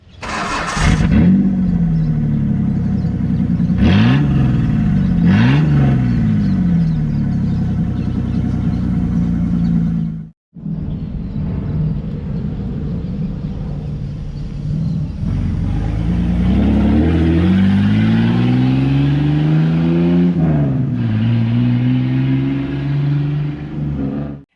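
A 1987 Ford Bronco II's 4-litre V6 engine, fitted with an aftermarket exhaust, revs hard several times, its pitch sweeping up and down, followed by sustained loud acceleration with rising and falling engine tones.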